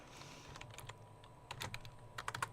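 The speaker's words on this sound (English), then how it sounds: "I'm typing at the same time." Someone types on a computer keyboard in a radio studio, a quiet run of irregular key clicks with a few faster bursts near the end, faint and with no talking.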